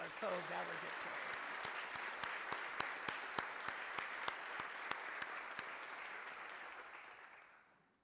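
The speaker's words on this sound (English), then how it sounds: "Let's share another round of applause for all of our co-valedictorians." An audience at an awards ceremony claps steadily for about eight seconds, a dense wash of applause with a few sharp nearby claps, fading out at the end.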